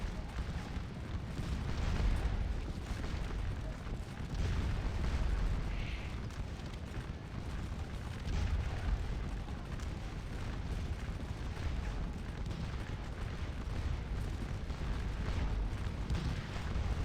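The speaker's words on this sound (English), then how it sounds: "there is a good deal of artillery out here" Cannon fire rumbles continuously across the field in the Scourge of War battle game, a dense, steady wash of distant booms and low rolling thunder with no clear gaps throughout.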